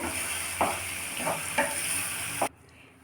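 Masala with turmeric sizzles in a pan for egg curry, a steady close frying hiss broken by a few soft stirring scrapes before it cuts off abruptly.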